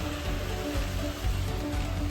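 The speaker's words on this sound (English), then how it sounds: "Heavy rain." Heavy rain pours down steadily in Bangalore, a dense, loud, continuous hiss and patter on surfaces with no break and no talking.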